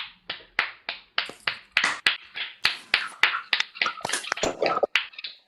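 Participants in an online conference clap at their microphones after unmuting, a scattered series of sharp, clipped claps that overlap and cut in and out, each with a quick decay.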